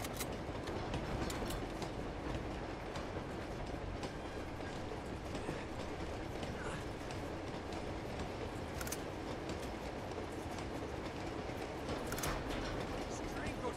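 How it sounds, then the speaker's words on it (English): A long train rolls steadily along the rails in the video game Uncharted 2, a continuous loud rumble with clickety-clack wheel noise and occasional sharp metallic squeals, running throughout. "This train goes forever."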